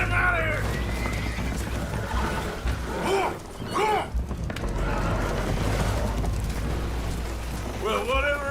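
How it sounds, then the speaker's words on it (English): Spooked horses neigh and whinny aboard a damaged boat taking on water in Red Dead Redemption 2, several loud whinnies rising over a constant wash of water and rumble, with voices in between. "Horses are spooked, and we're taking on water."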